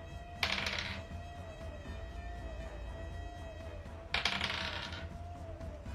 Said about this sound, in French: Juste entendre des dés se rouler, là.